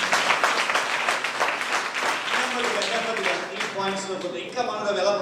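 A congregation at a Bible study gathering claps in a fast, dense, continuous patter for several seconds, with a voice rising over the clapping toward the end.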